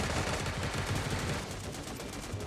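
Gunfire in the video game Sausage Man, rapid repeated shots in quick bursts that stay fairly loud across the moment, with no talking.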